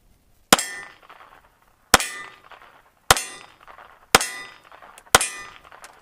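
An FN Model 1900 pistol fires five sharp, loud shots about a second apart. Each crack leaves a short ringing, metallic tail, and no one speaks.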